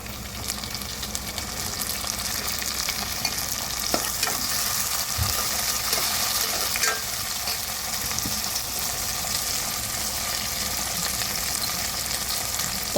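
Tomatoes and onions frying in a pan for idli kurma, a steady close sizzle with occasional stirring scrapes and clicks and no talking.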